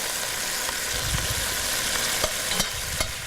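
One-pot chicken with vegetables is stirred in a pot as it cooks down. A steady soft sizzle runs throughout, with light scraping and clicks from the utensil. Nobody speaks.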